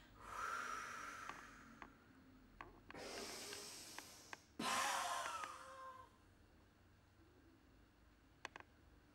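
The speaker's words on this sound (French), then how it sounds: "J'expire." Slow, audible exhalations during a breathing exercise, a few long airy breaths out near the microphone separated by brief pauses, with no speech.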